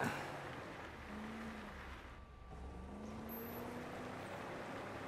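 Off-road rally vehicle engine in the Dakar 18 racing game, a steady faint drone with slight pitch rises as it revs, heard alone without talk.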